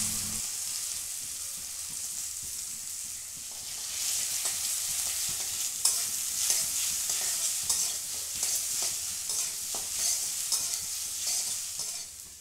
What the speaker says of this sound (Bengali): ডিমটা নেড়ে নিয়েছি